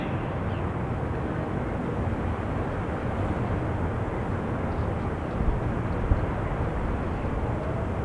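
Virgin Atlantic jet airliner flying overhead on a windy day at an airport, a steady, broad engine roar heard from a distance with no talking.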